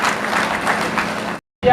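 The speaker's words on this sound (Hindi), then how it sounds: "हम सब एक बार तालियों की गड़गड़ाहट से उनका स्वागत अभिनंदन करें" Audience applause welcoming a guest, Bansi Ji Khatik, at a Bharatiya Janata Party foundation day meeting of active members in rural Udaipur; a dense, steady wash of clapping that cuts off abruptly, then resumes loudly after a brief silence.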